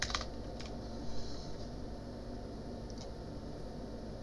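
Keys clatter on a computer keyboard in a few quick, light bursts of typing, close by, over a constant hum of room or fan noise.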